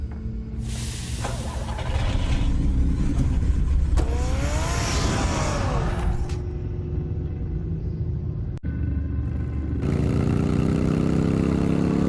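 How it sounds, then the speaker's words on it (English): A car in the Batman Telltale Series game starts up and drives off with a rumbling engine. The revs rise and fall and there is a short break before the engine noise swells again, loud and continuous. "Get the car ready, Alfred."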